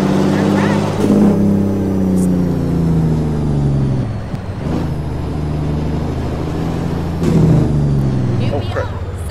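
A Kenworth 108 road train truck hauling trailers for big loads rumbles with a low, steady diesel drone, pitch dipping and rising as it works, while people talk over the engine noise.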